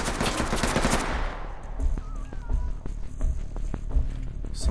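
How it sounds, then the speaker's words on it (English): Gunfire rings out in the tactical shooter Ready or Not, opening with a dense, loud burst that fades into scattered sharp single shots and impacts over a low rumble. "Someone outside trying to shoot."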